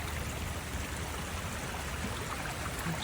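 Floodwater in Franschhoek pours steadily past a house, a dense continuous rushing wash like a stream or waterfall, fairly close and unbroken, with no talking.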